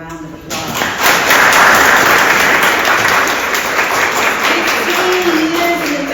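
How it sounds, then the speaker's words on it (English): An audience at an annual press conference applauds Miss Brenda Hong, with loud, dense clapping that swells after a brief pause and holds steady, and voices murmuring beneath. "One more time, y'all please give Miss Brenda Hong a round of applause."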